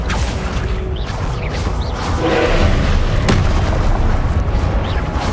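Confringo fire spell blasts in Hogwarts Legacy, a video game, come as loud booming bursts over continuous rumbling battle noise, with a sharp crack near the middle and no talking.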